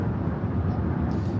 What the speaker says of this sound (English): This flight coming in from Newark, United Airlines, flight 399, 787-10 Dreamliner.